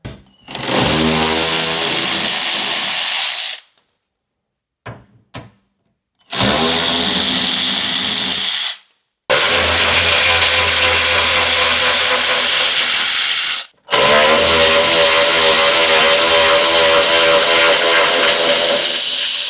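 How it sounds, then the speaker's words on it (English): Power tool loosening 10 mm bolts on a Ford Bronco Sport underbody cover, running in four loud, close bursts of whirring and rattling separated by short silences. "So let's go ahead, loosen all those up and remove the cover."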